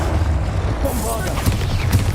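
A Bombarda spell explodes in Hogwarts Legacy, a booming blast inside dense, noisy game combat that keeps up a constant low roar throughout.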